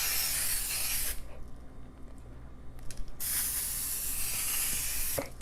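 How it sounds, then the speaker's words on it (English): Cooking spray from a can hisses onto a pan in two long, loud close-up bursts separated by a short pause, with a faint clatter near the end. "And now we're going to spray it all over the pan."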